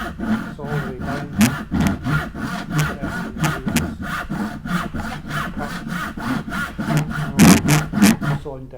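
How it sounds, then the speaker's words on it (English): A push saw cuts through timber in quick, rhythmic rasping strokes, loud and close, each stroke a sharp burst in a steady back-and-forth pattern. "this saw cuts and we actually push it because it's called a push saw"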